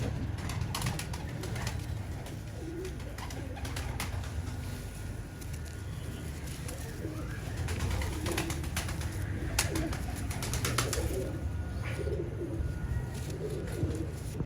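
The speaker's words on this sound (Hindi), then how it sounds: "मेरे घर के वो पुराने स्लेटी कबूतर हैं" Old grey pigeons at a pigeon-keeping home in Sahiwal coo softly and repeatedly over a steady low outdoor background, with no talking.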